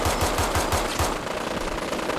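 Rapid automatic gunfire from Fallout 4: evenly spaced machine-gun bursts pound out for about a second, then give way to a dense, continuous roar of shots and noise, loud and close with no voices.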